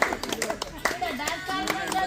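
Scattered hand claps from a group at a retired BSNL staff gathering in a Hyderabad hall, loud and irregular, mixed with people talking over them.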